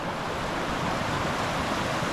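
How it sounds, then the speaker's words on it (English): A big river rushes steadily in the wilderness near a campsite, a constant broad roar of flowing water, soft and distant with no voices. "Still an awfully big river."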